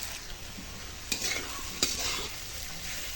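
Ground cumin, coriander and dried chilli powder fry in oil for an aloo paneer curry, a close steady sizzle broken by two sharp scraping stirs of a spoon against the pan.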